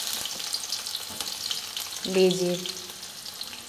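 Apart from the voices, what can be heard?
finely chopped onions frying in oil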